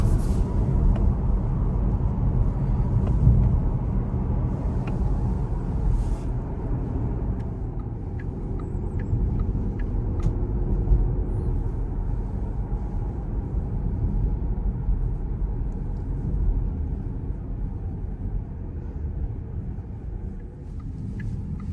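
A 2025 Porsche Panamera 4S E-Hybrid with double-clutch gearbox cruising, heard from inside as a steady, loud low rumble of engine and road noise that eases slightly toward the end.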